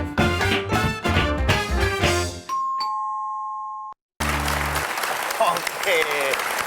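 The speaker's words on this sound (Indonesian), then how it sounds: "Tepuk tangan dong buat penampilan dari Sinden Berita" Studio audience applause on an Indonesian comedy television show, rising after a sung passage and a bright chime, then dense clapping with crowd noise through the last seconds.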